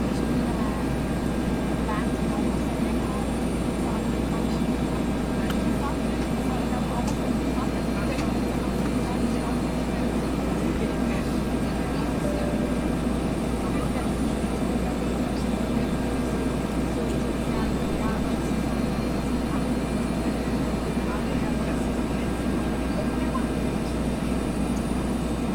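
Bell 412 helicopter in the X-Plane 11 flight simulator: a constant, loud, even engine and rotor drone with no change, while someone talks over it.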